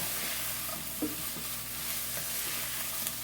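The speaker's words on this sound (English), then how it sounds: "I'm gonna go ahead and add my peppers in. Stir this around." Peppers are stirred into a pan where onions, shallot, garlic and ginger are already sautéing, giving a steady close sizzle with a few soft scraping stirs and no voices.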